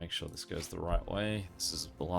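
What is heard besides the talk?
No everyday noises stand out.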